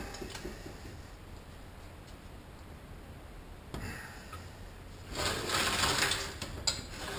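Bolts on the center support of a Ford Cruise-O-Matic automatic transmission being snugged up with a hand tool. Soft, close ticking and clicking runs throughout, then a brighter burst of rattling effort near the end, with no talking.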